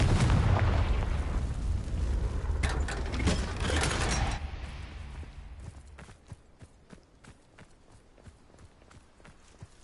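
A Confringo spell explosion in a Hogwarts video game sounds as a loud, dense burst with crackling debris that fades after a few seconds into quieter clatter and footsteps-like taps.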